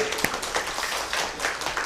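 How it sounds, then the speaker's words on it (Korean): A worship congregation gives a round of thankful clapping, a thick, sustained wash of many hands with a few sharper claps standing out, fairly loud and continuous throughout. "우리 다시금 감사의 박수 드리겠습니다"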